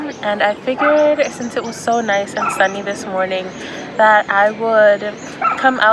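Someone speaks throughout in a sunny Paris park while a dog nearby yips and whimpers in short bursts beneath her voice.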